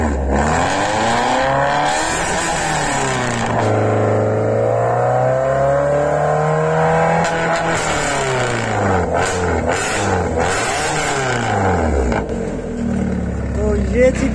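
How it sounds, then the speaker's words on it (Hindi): A heavily modified Maruti Swift with a button-switched exhaust revs repeatedly, its engine pitch sweeping up and down in long loud arcs, close by, with people talking over it. "अब भैया ऑन करने वाले हैं एग्जॉस्ट, बटन से ही ऑन होता है"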